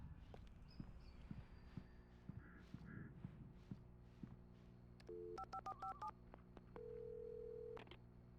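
In the Alan Wake video game, a gas station phone is dialed: a quick run of beeping keypad tones comes first, then a longer steady tone, all quiet against a faint hum and soft footsteps.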